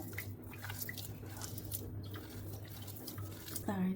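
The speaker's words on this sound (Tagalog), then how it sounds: "Maghugas tayo." Water runs from a kitchen tap during washing while cooking, a steady splashing hiss with a few squishy handling noises, close by, ending in a brief sharper clatter.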